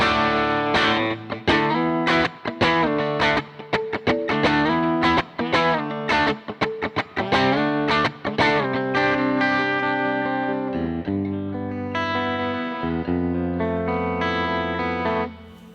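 An electric guitar plays through an AmpliTube 5 model of a Fender 3x10 Bandmaster amp with a 121 ribbon mic, in rhythmic chord stabs and sustained notes, loud and alone.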